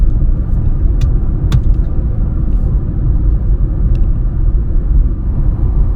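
A 2022 Honda Fit car engine hums steadily with low road rumble throughout, a few faint high clicks and ticks above it.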